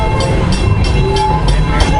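The Serengeti Express amusement park train at Busch Gardens rolls along its track with a loud, close, steady rumble, its wheels clicking in an even rhythm over rail joints about every quarter second.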